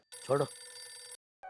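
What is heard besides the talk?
telephone ringing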